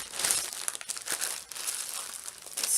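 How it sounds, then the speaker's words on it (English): A plastic freezer bag crinkles close by in a continuous burst of rustling, wrapped tightly around homemade gluten-free ravioli dough. "I'm going to put it in the lovely freezer bag here."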